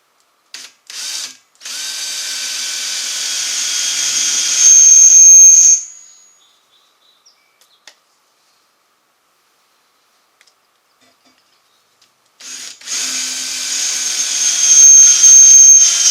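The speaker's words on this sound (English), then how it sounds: "So now I'm going to drill the second one." A power drill bores a bolt hole through a cart frame in two bursts, a loud high whine that rises in pitch, stops, then starts again several seconds later after a quiet pause.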